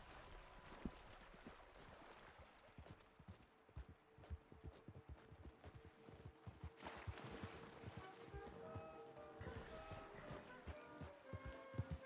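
Hooves of a horse in the Red Dead (RedM) game thud irregularly at a moderate distance, blended with a steady rushing ambience like flowing water, faint and continuous.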